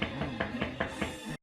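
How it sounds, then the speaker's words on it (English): Knocking on a door in a Breaking Bad scene: about six evenly spaced knocks, roughly one every fifth of a second, rapping over a steady bed of background sound. "Who's knocking on the door?"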